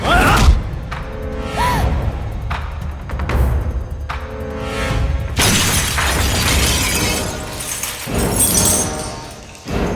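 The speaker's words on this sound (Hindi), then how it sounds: "मालिक, दादाजी की मूर्ति टूट गई।" A stone statue topples and shatters in a Hindi-dubbed South Indian film scene, with a loud crash followed by scattering debris, set among dramatic music and sound effects.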